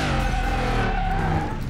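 Car braking hard with tire squeal in the video game Car Mechanic Simulator 2021, a loud steady engine and tire tone held for under two seconds with no talk.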